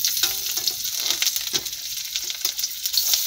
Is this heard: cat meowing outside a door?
no